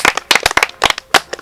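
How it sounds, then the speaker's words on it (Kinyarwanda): A comedy show audience claps in quick, uneven bursts of sharp, close hand claps, with brief pauses between the clusters. "muzasanga mwakwiha amashyi"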